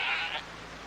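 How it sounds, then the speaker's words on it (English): Goats bleat once in the Anno 1800 video game, a short, fairly loud bright call that fades quickly into quiet background. "Hey, is there little animals here?"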